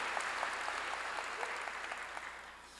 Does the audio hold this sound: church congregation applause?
yes